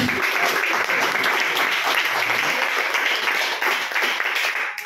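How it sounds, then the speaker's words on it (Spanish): A church congregation gives a loud burst of continuous clapping during a worship service, dense and close throughout, with voices faintly mixed in. "Denle palmas al Señor Jesús."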